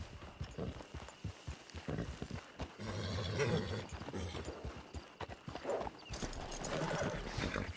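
A horse clops and neighs in Red Dead Online, with hoof beats, snorts and a whinny at moderate distance. Game ambience sits underneath.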